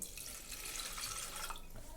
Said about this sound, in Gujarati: આમાં આપણે પાણી વેડીશું